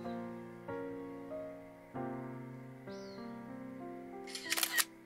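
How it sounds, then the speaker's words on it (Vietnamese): A phone camera shutter fires a short, sharp burst of clicks near the end while photographing a residence card, after several soft, sustained musical notes play in the background. "Bây giờ mình sẽ chụp luôn này."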